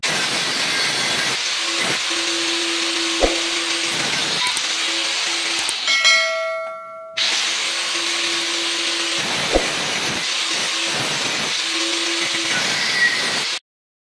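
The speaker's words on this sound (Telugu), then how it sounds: "ముందుగా మనం మిషన్ తీసుకొని దాని సైడ్ ఎమ్మట ఉన్న నట్టుని కట్ చేయాలన్నమాట." A cutting machine grinds through the nuts on the side of a water pump motor casing, a loud continuous high whine and hiss that drops out briefly midway, then resumes until it stops abruptly.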